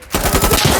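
Rapid automatic gunfire from the video game Insurgency Sandstorm, a loud, close burst of about eight quick rhythmic shots lasting under a second with no talk over it.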